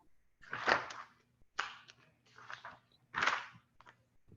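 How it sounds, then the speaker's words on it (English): Paper pages get flicked and shuffled close by during an online class: four separate rustling bursts, each lasting a fraction of a second, quiet between them, with a faint steady hum underneath. "I can hear you flicking through the"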